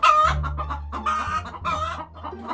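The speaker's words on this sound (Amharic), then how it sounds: "ተርኬ የጋሽ ከቤን ዶሮዎች አያቸው?" Animated chickens cluck loudly in close, rapid bursts with a short crow-like call, in a comic Ethiopian cartoon farmyard scene.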